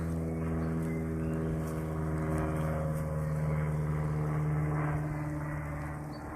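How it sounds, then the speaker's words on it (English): Propeller airplane flying overhead near an abandoned warehouse, a steady droning hum holding throughout at moderate, even loudness. "Oh, and there's a plane."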